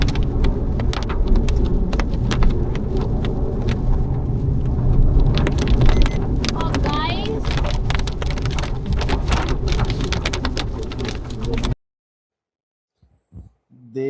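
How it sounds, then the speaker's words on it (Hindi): Heavy rain drums hard on a car during a highway road trip from Delhi to Goa, a dense, loud, steady patter with a rumble underneath that cuts off abruptly into near silence. "बारिश तो काफी तेज हो गई है।"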